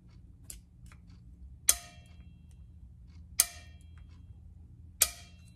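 A valve seats into the valve body of a Ford C4 transmission, giving three sharp metallic clicks spaced evenly about two seconds apart over a quiet background hum.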